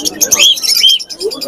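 Black cockatiels chirp and tweet in quick, busy calls at a crowded pet bird market, with voices mixed in among the birdsong.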